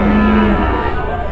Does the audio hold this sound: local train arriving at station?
no